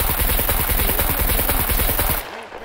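Rapid automatic gunfire in the survival game Scum, a dense, loud string of evenly spaced shots lasting about two seconds before cutting off abruptly into quiet.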